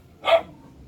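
A thin dog gives a single short bark, fairly loud and nearby, followed by quiet.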